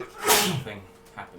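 A single sharp sneeze from a player at a tabletop role-playing session, loud and close, bursting out and trailing off, followed by a brief voice.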